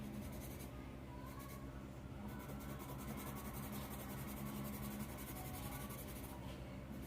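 A Bee Unique colored pencil scratches steadily and faintly across paper, a continuous soft scraping of coloring strokes.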